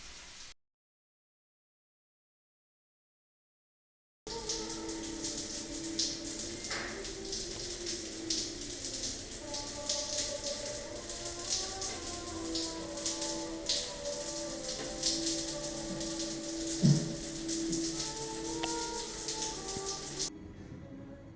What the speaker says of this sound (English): with the different smells of soap and just a rainfall shower